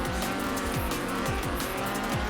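A Ford RS 1800 rally car races in Forza Horizon 4: a loud, revving engine repeatedly climbs through the gears with quick shifts, under continuous tire squeal and skidding.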